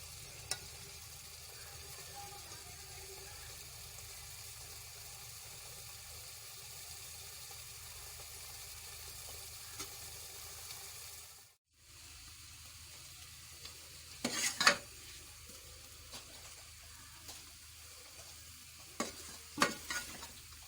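Kalaiji palak (spinach) being stirred and fried in a pan: a low, steady sizzle for about eleven seconds, a brief cut, then quieter frying broken by a few sharp spoon scrapes and clinks, with no talk.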